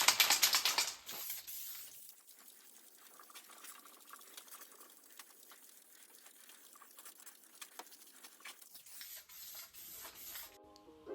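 Spray gun hisses as a second coat of epoxy primer goes onto the floorpan of a VW Mk2 Golf under restoration, with loud bursts at the start and end and quieter patchy spraying in between.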